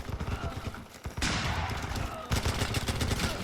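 Gunfire in the online shooter Running With Rifles during a player-versus-player match, with shotgun blasts and bursts of rifle fire crackling in quick rhythmic volleys, loud and close, with a harsh sharp onset midway and another near the end.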